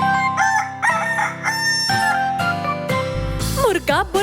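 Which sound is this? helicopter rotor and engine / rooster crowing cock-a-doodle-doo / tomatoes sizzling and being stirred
rooster crowing cock-a-doodle-doo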